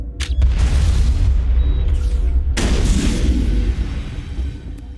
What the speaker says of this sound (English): Loading up. Grenade launcher.